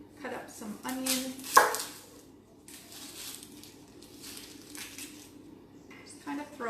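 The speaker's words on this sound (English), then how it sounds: "I'm just going to cut up some onion" A knife chops onion on a cutting board in a home kitchen during breakfast prep, with a few sharp knocks and scraping bursts at the start, then softer irregular cuts. A person speaks quietly throughout.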